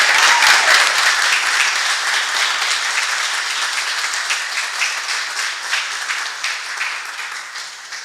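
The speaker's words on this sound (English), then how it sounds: "a great round of applause." Loud sustained applause from an audience at a city commission meeting, a dense wash of clapping that slowly fades over several seconds.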